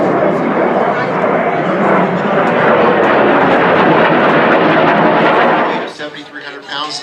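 A Dornier Alpha Jet roars loudly overhead at the Truckee Tahoe Airshow, a sustained dense jet rush that fades near the end while an announcer talks over it.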